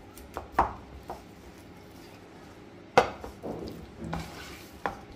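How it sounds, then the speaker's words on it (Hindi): Pav bread dough with a little oil is kneaded by hand, giving soft squishes and a few sharp knocks and slaps at irregular intervals, close and fairly quiet, with a low background hiss between them. "तेल डाल के इसको हम 2 मिनट के लिए गूंद कर ले लेंगे।"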